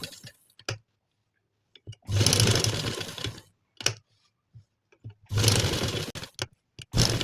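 A sewing machine stitches over fabric leaves on a patch neck design in two rapid whirring runs of a second or more each, with brief clicks and handling noises between them, close and fairly loud.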